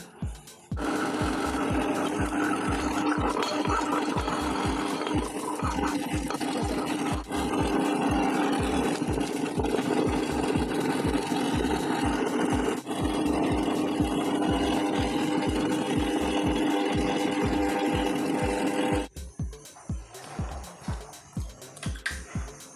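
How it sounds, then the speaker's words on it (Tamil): A wet grinder churns dal batter for banana flower vada, its stone rolling in a fast, even rhythmic thumping that runs loud and steady for about nineteen seconds before stopping, with no talk. "கிரைண்டரில் அரைக்கிறேன்."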